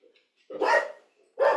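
A dog barks twice indoors, two loud, close, full-bodied barks about a second apart with a brief pause and faint whimpering between them, with no one talking.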